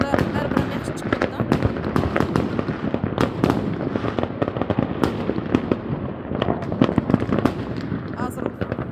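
New Year fireworks set off in Russia: dense, continuous crackling and popping bursts, loud and close, with a voice talking over them throughout.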